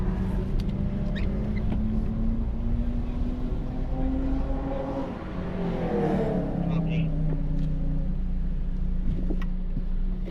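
Subaru BRZ engine droning steadily on a race track during a warm-up lap, with rising and falling harmonic tones as the revs shift, loud and continuous under faint background noise.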